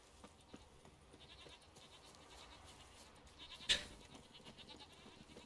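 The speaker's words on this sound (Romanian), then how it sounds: "Ia, ce capri!" Goats bleat faintly in The Witcher 3 amid a quiet game ambience, with one sharper, louder bleat standing out near the end.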